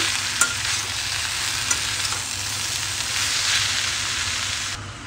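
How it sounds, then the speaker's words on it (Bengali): Capsicum of three kinds stir-fries in a hot pan for Chinese-style chicken noodles, a loud continuous close sizzle with a few spatula knocks against the pan. "এগুলো আমি একটু ভালো করে ভেজে নেব।"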